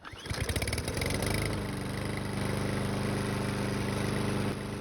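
A small gasoline lawnmower engine, just fitted with a newly installed carburetor, sputters to life and settles into a steady, loud running drone, close by, with no talking.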